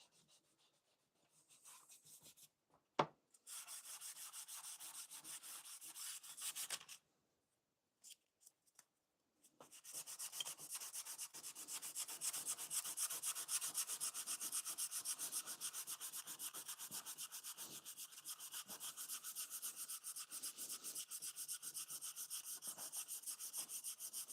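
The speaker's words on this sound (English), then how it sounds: "Need a better piece of sandpaper here soon." Sandpaper rubbing back and forth over the wood of an Anco Built easel during restoration, a steady close scratchy rasp that stops briefly, then resumes loud and continuous for the rest of the time.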